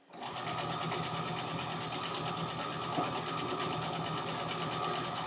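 A sewing machine stitches long strips of pinked-edge fabric for quilt strip sets, a fast, steady mechanical whirring that runs continuously at close range without pause.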